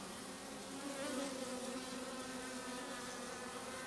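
A honeybee swarm hums continuously while being gathered into a hive box from a rubbish dump, a dense, steady buzz of many bees close by with no voices.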